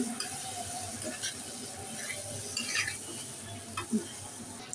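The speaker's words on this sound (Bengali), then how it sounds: "সাথে দিয়ে দিচ্ছি একটু গরম মশলার গুঁড়া। এবার এগুলোকে ভালো করে ভেজে নিচ্ছি" Spices with garam masala powder fry in a pan alongside chilli chicken, a soft sizzle under repeated stirring scrapes and light clinks of a utensil against the pan.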